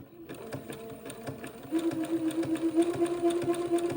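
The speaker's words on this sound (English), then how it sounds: "I will be zigzagging this lace onto the bottom of the insertion lace for a few minutes" A sewing machine zigzag-stitches lace onto the bottom edge of insertion lace for a diaper shirt, running in a steady, close mechanical whir that grows louder and more even after a brief uneven start.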